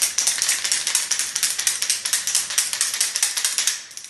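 A can of repair lacquer spray shaken hard, its mixing ball rattling in a fast, steady rhythm of sharp clicks for several seconds, close and alone.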